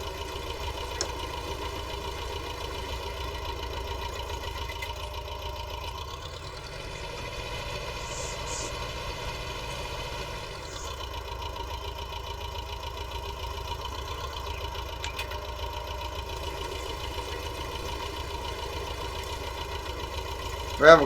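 A small, low-powered farm tractor engine idles and runs steadily at a quiet, even level for a long stretch, with a slight dip midway and a brief bump at the very end.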